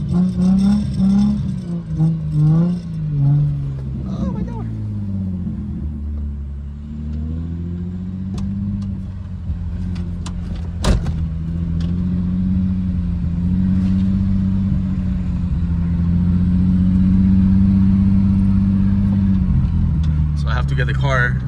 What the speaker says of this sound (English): Just casually driving through my yard.